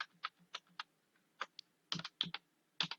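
Password being typed on a computer keyboard while setting up GSP for e-way bills in TallyPrime: irregular soft key clicks, some in quick pairs, close and quiet, with no talking.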